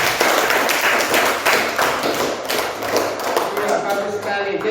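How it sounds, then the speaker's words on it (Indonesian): A class applauds a student named Selma with dense, uneven clapping from many hands close by. Voices mix in with the clapping throughout. "Tepuk tangan bagi Selma."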